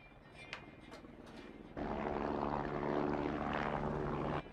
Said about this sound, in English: That's the chopper.